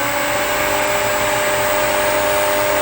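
Black & Decker pool pump running at full speed, a loud, steady motor whine and broadband whoosh with a constant high tone, unchanging throughout and heard alone with no talking.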